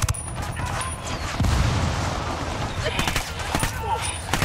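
Grenade blast and sustained gunfire in a co-op tactical shooter video game, a continuous crackling barrage with a heavier boom partway through, loud and unbroken, with people talking faintly underneath.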